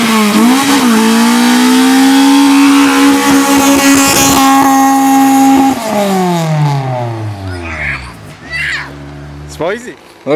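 A Honda Civic hatchback with a swapped K20 engine and a new transmission revs hard in second gear, the engine note climbing, holding, then falling away as it slows, with someone talking over it.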